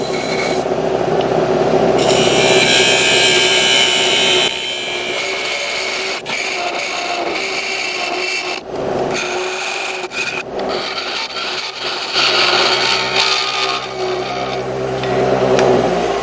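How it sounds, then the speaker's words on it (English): A spindle gouge shear scrapes aluminum spinning on a lathe, a loud, close, continuous rasping hiss that shifts in tone from cut to cut, broken by brief pauses. "I'm also using the spindle gouge in a shear scraping mode, which does very well"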